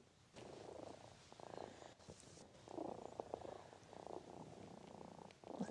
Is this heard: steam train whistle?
no